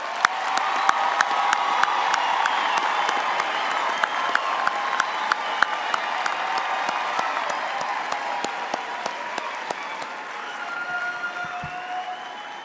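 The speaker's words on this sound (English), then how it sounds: "give our graduates for their perseverance and dedication a very warm hand of applause and congratulations" Audience at a university autumn graduation ceremony applauding and cheering the graduates, a dense, steady wash of clapping with scattered whoops that holds for the whole stretch and tapers slightly at the end.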